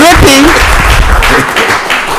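Applause from a county commission meeting audience greeting the entrance of the mascot Drippy, a loud steady clatter across the clip with a brief whistle-like tone early on and some mixed voices.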